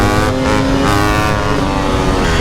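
A dirt bike engine roars loud and close during a wheelie, with a steady high rev that rises and falls slightly for a couple of seconds.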